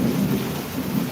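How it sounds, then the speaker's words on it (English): Deep, continuous rumble of thunder during a thunderstorm, steady and fairly loud, with rain hissing underneath throughout, no voices. "It sounds like it's gonna be some big thundering."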